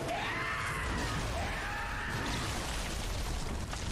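The Bloodborne DLC final boss, the infant child of Kos, gives a sustained high screeching and wailing cry, loud and continuous across a rumbling, noisy backdrop.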